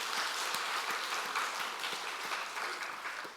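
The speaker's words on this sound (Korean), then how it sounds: "하나님 앞에 영광의 박수 올릴까요?" Church congregation applauding during a Sunday service, steady dense clapping from many hands, moderately far and even, no talk over it.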